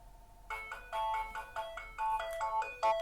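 A telephone ringtone rings during a home computer tech-support session: short electronic tonal bursts repeat in a steady pattern, close and fairly clear, with no talking.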